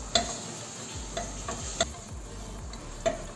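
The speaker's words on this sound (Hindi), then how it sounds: "पक रहा है चिकन" Chicken cooks in a non-stick pan without oil for a weight-loss chicken soup, giving a soft, steady sizzle punctuated by a few sharp clicks and scrapes of stirring.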